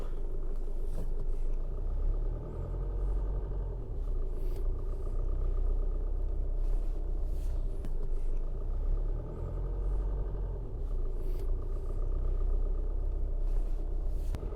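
A car rolls along sandy inland campground tracks at Flinders Beach on North Stradbroke Island, with a continuous low engine rumble and road noise heard from inside the cabin, steady and fairly loud with no talk.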